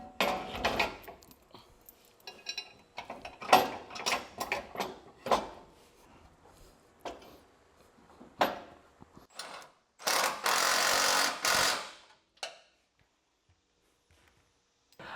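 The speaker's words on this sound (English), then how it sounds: "Let's get this bolted up." Fasteners being run into cleaned bolt holes on a notched frame of a 1970 Chevrolet C10 truck, heard as scattered close metallic clicks, clanks and ratcheting bursts, with a longer steady whirring stretch near the end, no talking.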